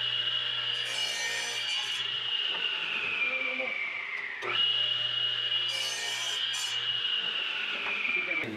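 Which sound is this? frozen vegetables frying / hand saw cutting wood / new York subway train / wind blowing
hand saw cutting wood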